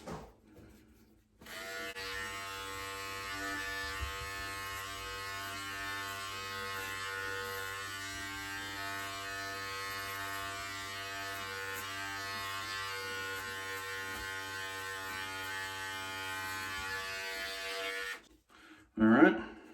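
An electric beard trimmer buzzing steadily and close while trimming a beard, a continuous whining drone lasting most of the time, starting and stopping abruptly, with brief noise at the end.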